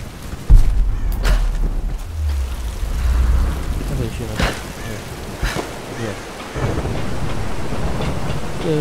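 Rain and rolling thunder in the video game Tomb Raider, a steady wash of rainfall with low rumbles and a few sharper cracks, close and fairly loud, with game effects mixed in.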